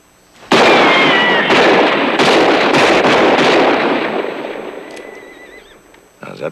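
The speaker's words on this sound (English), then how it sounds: "How's that for shooting, Wally?" Gunfire in a 1984 western film, a loud broadband burst of several sharp shots in quick succession that holds for a few seconds and then decays, with a faint whinny-like tone and a final short crack near the end.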